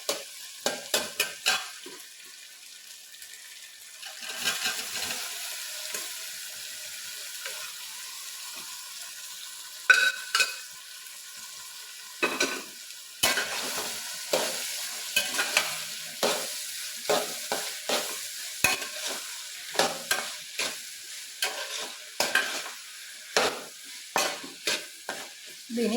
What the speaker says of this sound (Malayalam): ഇതിനി നല്ലപോലെ ഒന്ന് ഫ്രൈ ആക്കി എടുക്കാവേ